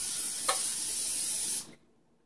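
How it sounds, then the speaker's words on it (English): Cooking spray hissing onto a grill for a country breakfast, one continuous close, loud spray lasting about a second and a half with a small click near the start, then cutting off into near silence. "So, I guess we're going to spray down the grill."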